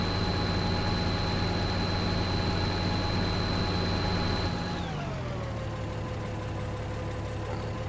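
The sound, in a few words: tractor engine running in Farming Simulator 2013 video game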